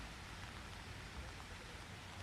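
Heavy rain pours steadily onto a flooded street in Chandigarh, a dense, even hiss with no breaks and no voices.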